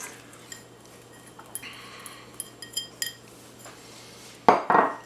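Finely diced onion tipped into a pot of green beans for Greek braised fasolakia, heard as faint scrapes and light clinks of utensils against cookware, ending in a couple of louder metallic knocks.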